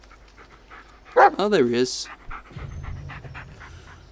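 A companion dog in the Blair Witch horror video game pants in a quick burst of rhythmic breaths close by, followed by a short whimper, while someone speaks briefly before and quiet ambience continues after.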